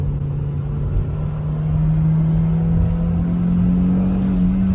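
A Kia Carens 1.5 turbo petrol engine hums steadily from inside the cabin with low road rumble, the pitch rising slightly as it accelerates.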